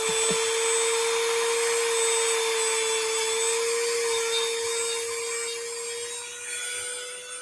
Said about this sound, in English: I'll Dremel it off.